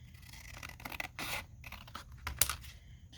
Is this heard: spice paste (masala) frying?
no